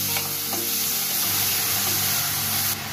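Chopped onions sizzle steadily in a hot pan, a continuous loud crackling fry with a few faint clinks, and no talking over it.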